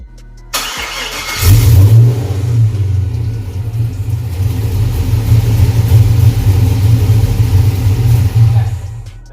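A car engine cranks and fires up after a standalone wiring harness install, then settles into a loud, deep, steady rumbling idle with light revving, close up and uninterrupted.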